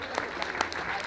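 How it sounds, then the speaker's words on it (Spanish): A short burst of scattered clapping breaks out for the birthday girl's mother at a children's clown show in Puebla, with a voice talking over it. "El aplauso para ella."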